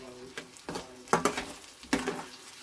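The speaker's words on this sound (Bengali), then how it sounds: "এটা দিয়ে একটুখানি ভালো করে কষে নিই সবজিটা" Mixed vegetables being sautéed with a ground spice paste, giving several distinct scraping stirs and clinks of a spatula in the pan, close and fairly loud, over a soft sizzle.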